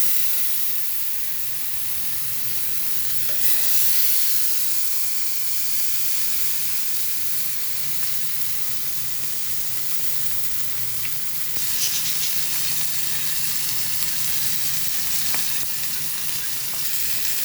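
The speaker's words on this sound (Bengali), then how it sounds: "এখন আমি তাওয়ায় মাছটা দিয়ে দেবো" Pabda fish fries in olive oil in a pan with a loud, continuous, close sizzling hiss that holds steady throughout, swelling briefly at a few moments.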